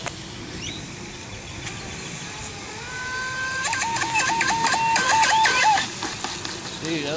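An Offshore Infinity RC boat opens up to full throttle, its motor climbing into a loud, high, rising whine with rapid warbling pitch changes over steady water and wind noise, then cutting back near the end.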